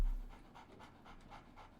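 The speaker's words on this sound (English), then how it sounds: "Oh, it's you that's huffing. So, Barnes has a dog now" A dog huffs and pants in the video game Sherlock Holmes: The Awakened, a series of rhythmic, breathy puffs repeating steadily at close range, fairly quiet and heard alone.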